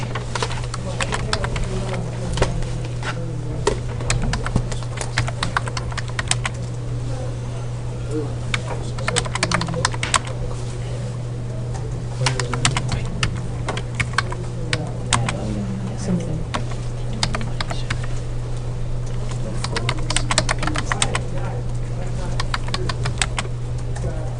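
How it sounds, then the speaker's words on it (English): Fingers tap steadily on a computer keyboard as true-and-false quiz questions are typed in, the close, irregular key clicks running throughout over a constant low electrical hum while a person talks. "So you take the true and false question and type it in."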